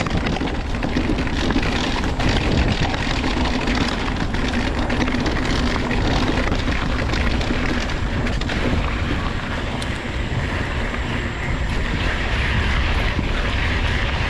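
A Yeti SB150 mountain bike rides fast down a rough descent, heard as continuous loud rushing wind and rolling tire rumble with constant rattle and no pauses.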